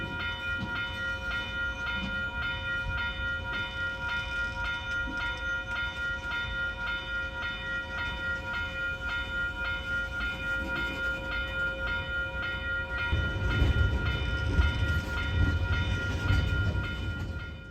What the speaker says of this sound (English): After the petroleum cars pass, the train starts to look more and more like a manifest